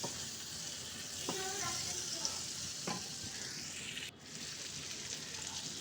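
Chopped tomato dropped into a pan of frying spices, turmeric and chilli powder, for a Bengali masoor dal, sizzling steadily with a couple of sharp stirring scrapes and no voices over it.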